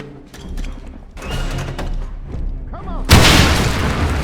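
A grenade explodes in the Wolfenstein video game: a loud, heavy boom bursts in near the end and rumbles on after earlier scattered game sounds, with voices in the background.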